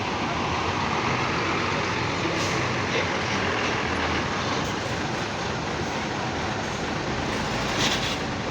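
A bus pulling in to park at Purabaya bus terminal in the early morning gives a steady, loud engine and road rumble with a constant broadband wash and no pauses.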